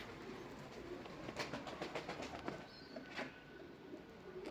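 Pigeons cooing softly in a loft, several low throaty coos in short bursts over quiet background hiss, faint and close, no talk.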